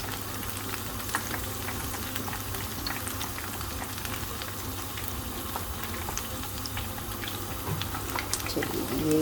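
Pakoras dropped by hand into hot oil fry with a steady, dense sizzle and crackle that runs throughout at an even, moderate level, with faint kitchen sounds on top.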